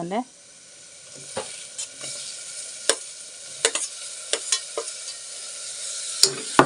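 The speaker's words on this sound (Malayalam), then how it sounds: "ഇപ്പം ഈ തക്കാളി ഇട്ട് കൊടുക്കാം കേട്ടോ" Chopped tomatoes fry with a steady bright sizzle in a pan for a potato masala curry, punctuated by several sharp spoon scrapes and knocks as the mixture is stirred up close.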